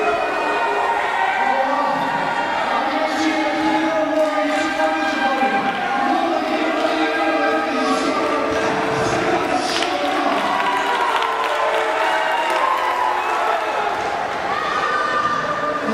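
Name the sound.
wrestling crowd reacting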